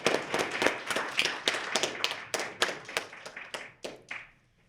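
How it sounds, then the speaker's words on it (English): Applause for a Northwestern University professor at a university debate on marriage: a burst of sharp, close hand claps that thins out and fades to quiet after a few seconds, with no talk over it. "Please give a huge round of applause"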